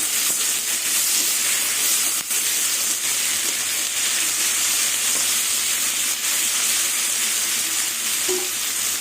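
Prawns frying together with onion, ginger, garlic and chili in a pan, a steady loud sizzle and hiss that runs unbroken throughout with faint stirring scrapes, no voices.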